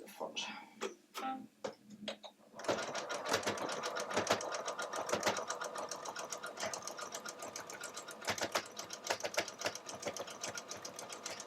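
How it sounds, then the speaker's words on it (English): A sewing machine stitches through the thick fabric layers of a zipper bag, with a few separate clicks and pauses first, then a steady, loud, rapid mechanical chatter that continues to the end. "You can hear the machine making quite a bit of noise. That's just purely because of the thickness of all the fabric."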